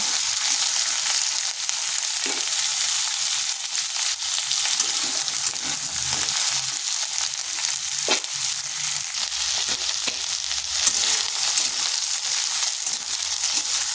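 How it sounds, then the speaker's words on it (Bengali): Pieces of pointed gourd (potol), each cut into four, fry in a pan over high heat, giving a loud, continuous sizzle with occasional pops and scrapes of stirring throughout. "হাই আঁচে পটলটাকে ভেজে নেব"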